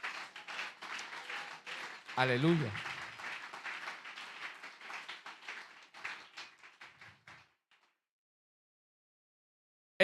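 Congregation applause at a Spanish-language evangelical church service, a dense wash of clapping that runs about seven seconds under a shouted exclamation and then cuts off into silence.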